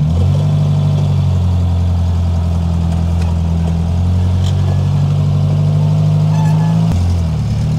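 A 50-year-old farm truck engine drones loudly and steadily on its first drive, a deep rough running note that holds level for several seconds with a slight rise near the end, heard close with no talk.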